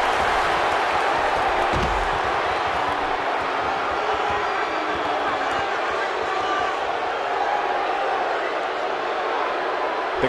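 Crowd noise in a WWE 2K17 triple threat wrestling match, a steady dense roar of cheering and chanting filling the whole stretch, with a sharp thud near the start.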